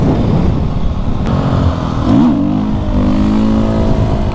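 A supermoto motorcycle engine revs steadily and loudly up close, with a rising-and-falling pitch swell midway through, over continuous road and wind noise.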